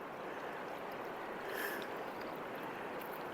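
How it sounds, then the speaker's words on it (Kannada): A boat crossing the Kaveri river backwater at Dabbaguli, heard as a steady, broad wash of water and motor noise from a distance, with no voices over it. "ನೋಡಿ ಇಲ್ಲಿ ಬೋಟ್ ಅವರು ಬರ್ತಾ ಇದ್ದಾರೆ"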